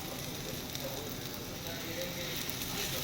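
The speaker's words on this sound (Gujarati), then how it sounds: "તેલ નાખતું જવાનું અને ક્રિસ્પી એકદમ થાય ત્યાં સુધી શેકવા દેવાનું ધીમા તાપે" A paratha shallow-fries in oil over a low flame until crisp, giving a soft, even hiss that holds steady throughout with no pauses or talk.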